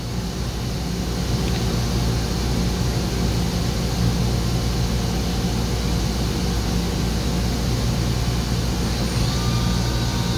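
A Mazak VCN 530C CNC vertical machining center with its spindle turning at 2,000 RPM, giving a steady, loud, unbroken mechanical hum with faint whining tones layered over it, running alone without any talk.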